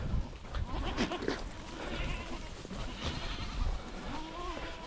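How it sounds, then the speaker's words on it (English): Goats bleat in a farm pen during deworming, several close, wavering cries in short bursts over shuffling and movement, with a person speaking faintly nearby. "Goat's gonna run me over."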